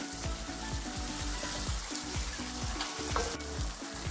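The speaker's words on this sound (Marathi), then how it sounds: "त्याच्यामुळे आपल्याला अगदी व्यवस्थित परतून घ्यायचा आहे हा मसाला।" Egg curry masala sautéing in a pan, a loud continuous sizzle and crackle with a repeated rhythmic scraping of a spoon stirring through the gravy.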